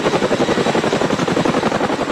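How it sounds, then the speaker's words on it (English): Boeing CH-47 Chinook twin-rotor Army heavy lift helicopter thumping steadily and loudly, a fast rhythmic rotor chop over a dense turbine roar, close and continuous with no voices. "the Army's CH-47 Chinook helicopter is definitely a workhorse"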